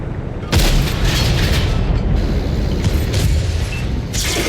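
Heavy autocannon fire in console World of Tanks: a sudden loud boom kicks in and sustained rumbling, crackling bursts follow, with further sharp reports toward the end over steady battlefield noise.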